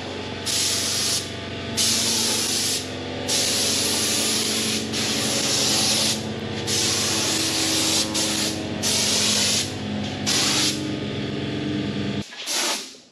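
Spray paint hisses onto the drawbar of a 1939 Caterpillar D4 crawler tractor in a series of long, loud bursts separated by short pauses, ending with a brief rattle.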